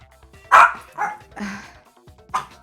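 Within the Danganronpa video game, a dog barks loudly a few times in close succession, with short, sharp yaps spaced irregularly over a couple of seconds.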